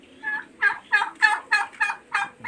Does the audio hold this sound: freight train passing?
no